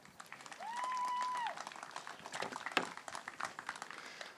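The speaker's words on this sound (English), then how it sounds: "Please give yourselves a round of applause" Audience applause at an outdoor pro-life March for Life rally, a steady burst of clapping from a crowd that builds, holds, then trails off into scattered claps, with a whistle-like tone early on.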